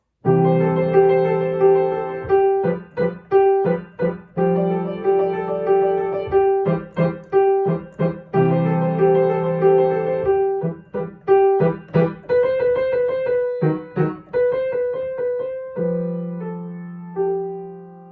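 Piano plays a melody with chords, notes ringing into one another as the sustain pedal lets them linger, played alone at moderate volume.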